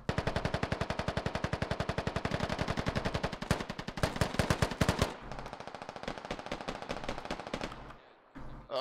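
A long, steady burst of rapid automatic gunfire in a video game rattles close and loud, shifting into choppier, sharper bursts partway through before trailing off, with no talking.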